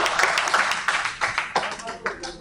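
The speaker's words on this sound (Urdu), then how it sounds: "ملک صاحب کے لیے تالیاں" A group in a Lahore meeting hall claps for Malik sahib. A few scattered, uneven hand claps ring out over and between talking voices, loose rather than a full ovation.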